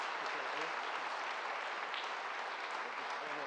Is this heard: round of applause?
yes